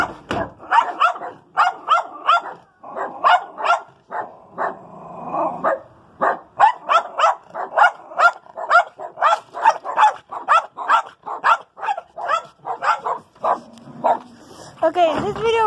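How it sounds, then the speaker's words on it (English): A dog nicknamed the demon dog barks and yips repeatedly in close, loud bursts, with a few whimpers between barks, while people talk over and around it. "And here's the demon dog."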